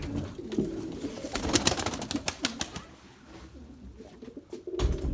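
Pigeons coo softly in a flock kept by a fancier, with wing flaps and rustling nearby and a few sharp clatters, fairly faint and without talk.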